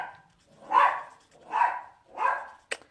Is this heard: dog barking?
yes